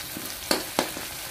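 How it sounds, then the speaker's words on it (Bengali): Fish frying in a pan gives a close, steady sizzle, with two sharp spattering pops standing out partway through. "তো আমার মাছগুলো ভাজা হয়ে গিয়েছে আরেক পিঠও।"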